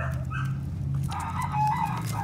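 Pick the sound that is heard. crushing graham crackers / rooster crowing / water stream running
rooster crowing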